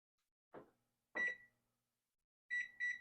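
Kitchen timer being set while baking chocolate chip cookies: a couple of soft button presses followed by sharp electronic beeps, close and clear in a quiet kitchen with no voices.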